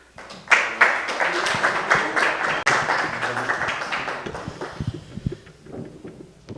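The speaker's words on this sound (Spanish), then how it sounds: "recibirle al ingeniero Juan Carlos Camacho, para quien pido un aplauso, por favor" Audience at a club evening in Guaranda bursts into applause for a guest engineer, loud clapping that swells, holds for several seconds, then thins out into scattered claps and a quieter room.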